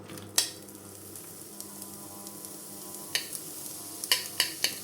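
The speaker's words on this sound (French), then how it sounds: "on fait revenir les oignons. On les fait dorer." Onions fry and brown in a pan for Mexican-style rice, a low steady sizzle running throughout, broken by several sharp scrapes and clinks of a utensil stirring against the pan.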